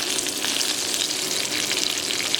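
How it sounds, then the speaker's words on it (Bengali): Onions cut into large pieces fry in a pan for aloo do pyaza, a steady close sizzle with faint stirring and no voices. "এবার এই পেঁয়াজগুলো আমি একটু ভেজে নেব।"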